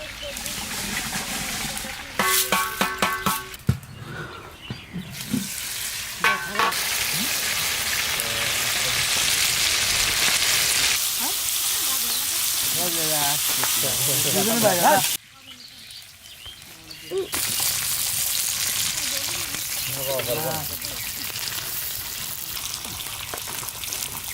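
Rice fries in hot oil in a home kitchen pan, a sustained loud sizzle with stirring scrapes, broken by a short pause, while people talk in Bengali over it.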